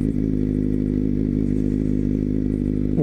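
Suzuki GSX-S750A motorcycle engine idling, a steady, loud, close low rumble with an even rhythmic pulse and no talk over it.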